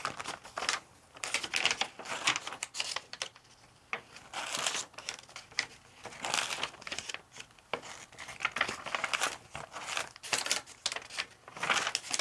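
Light, quiet tapping on a keyboard comes in irregular bursts of keystrokes, close and soft, mixed with faint crinkly handling noises in an ASMR therapy role-play setting.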